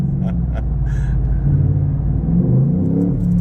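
A Velocity Blue race truck's engine gives a deep, steady rumble close by, holding an even low growl with no sharp revs.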